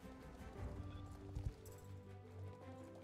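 Horse galloping in the video game Star Stable during a show-jumping race, a soft rhythmic hoof clatter under steady game music, moderately faint.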